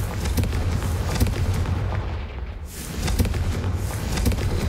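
The Confringo explosive spell in Hogwarts Legacy, heard as a loud, continuous rumbling blast texture with sharp bursts, briefly thinning near the middle before surging back.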